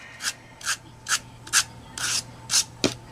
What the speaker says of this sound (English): we can always go back and hit with our handy dandy little sandpaper